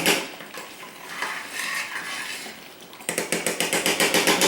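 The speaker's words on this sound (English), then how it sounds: "I'm going to be adding the cashew nuts at this time" Cashew nuts tipped into a pan of sweet pongal and stirred, with scraping and clinking of a spoon against the pot that turns into a fast, regular rhythmic scrape near the end; close and fairly loud, no speech.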